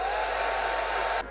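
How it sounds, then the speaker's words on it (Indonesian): A hair dryer blows on twisted hair with a steady, close whoosh for about a second before it cuts off abruptly. "Terus kalian hair dryer lagi."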